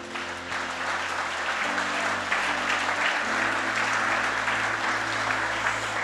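Steady applause from a church congregation during a sermon, sustained and even throughout, with a low tonal hum underneath.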